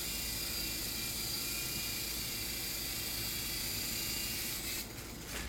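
An E-flite Blade mcX micro RC helicopter whirs in flight with a steady, high buzzing hum of small rotors, constant and fairly close, easing slightly near the end.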